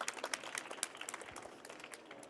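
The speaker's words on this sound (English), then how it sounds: "please give them a massive round of applause" Audience applause at an outdoor garden stage session on food and zero-waste catering, a steady patter of scattered claps at moderate distance with no voices over it.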